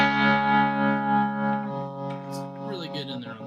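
Distorted electric guitar chord ringing through a Line 6 Spider Valve MkI 212 tube amp with tremolo on, its volume pulsing in a slow, regular wobble as the sustained tone decays, then a few quieter notes follow.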